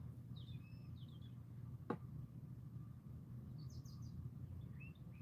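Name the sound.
birds singing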